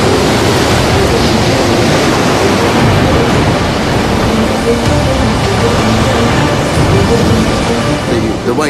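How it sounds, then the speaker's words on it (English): Ferocious Force 10 gale at sea in the Atlantic, a loud, unbroken roar of wind and crashing waves that fills the whole stretch without pause. "a ferocious Force 10 gale closes in."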